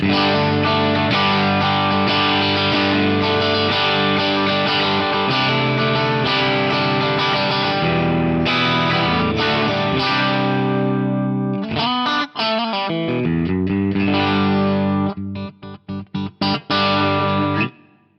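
An overdriven electric guitar through an amp modeler, set to break up when played harder, plays sustained distorted chords and riffs with plate reverb, loud and close, ending in choppy muted strums and short stabs.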